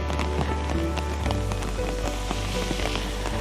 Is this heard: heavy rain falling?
yes